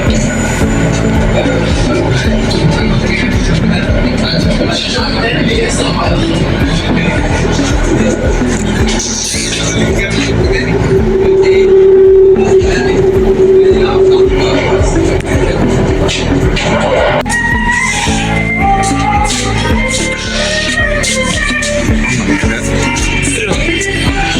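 A Cairo metro train running between stations fills the car with a loud, steady rumble and rattle, with crowd babble underneath and a brief sustained whine partway through.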